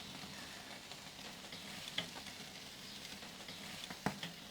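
Black Angus ribeye steaks sear on a Kamado Joe Kettle Joe grill with a steady, broadband sizzle and crackle, plus a couple of sharper pops from flare-ups, heard alone without voices.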